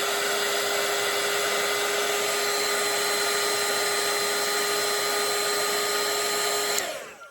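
A hair dryer runs steadily at close range to dry a watercolour painting of potted herbs, giving a loud, even whir with a constant tone for about seven seconds before it cuts off abruptly at the end.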